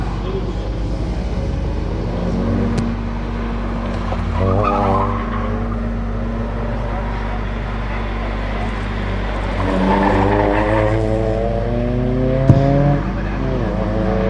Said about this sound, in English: A little bit of handbrake work there as well.